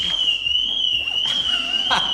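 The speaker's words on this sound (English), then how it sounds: "Winston set the car alarm off." A car alarm wails with a sustained, steady high electronic tone over the full stretch, loud and close, with faint background noise beneath.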